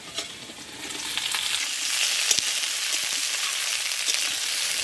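Sliced potatoes, okra and green chilies dropped into hot oil with onions already browned in a pan, a loud close hiss that swells and keeps sizzling steadily, with faint stirring clinks and no talking.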